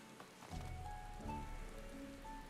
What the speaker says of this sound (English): the rain is certainly painting a mood of sadness and